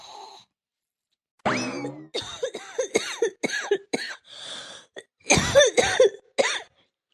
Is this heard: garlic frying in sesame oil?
no